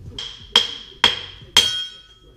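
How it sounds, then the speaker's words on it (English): Four sharp metal-on-metal hammer strikes knock a bracket off a GMC Envoy shock strut assembly, each blow ringing briefly in a steady rhythm, close and loud with no talk. "Now I'm gonna hit this bracket off."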